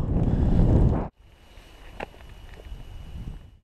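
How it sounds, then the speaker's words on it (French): Strong wind gusts buffet the microphone for about a second on a snowy mountain trail to Lac Blanc near Chamonix, then drop to a lighter steady rush with a few soft knocks. "Alors, il y a un peu de vent, quelques petits grains de neige, mais ça va"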